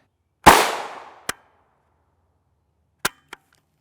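Gunshots from an FN PS90 SBR bullpup with a 10.4 inch barrel firing 5.7x28mm ammunition: one loud sharp report with a decaying tail, then three shorter, quieter cracks spaced apart, no talking.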